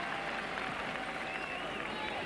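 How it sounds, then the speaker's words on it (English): A tennis crowd at the 1992 French Open first-round match between Jimmy Connors and Michael Stich roars and applauds, a dense, sustained wash of clapping and cheering heard from a distance with no break. "certainly the deafening roar for the crowd"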